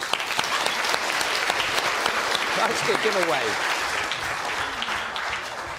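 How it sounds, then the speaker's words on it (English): An audience applauds steadily for a volunteer picked from the crowd, a dense roomful of clapping that carries on evenly while a speaker briefly talks over it. "Round of applause."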